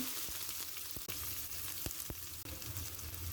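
Chopped onion fries in a modest amount of oil, a steady close sizzle with a few sharp clicks of a utensil stirring against the pan.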